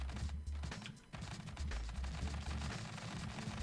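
Rapid bursts of spud cannons fire from an assault hovercraft in Scrap Mechanic, a dense, continuous stream of thumping shots from dozens of cannons layered with low rumble.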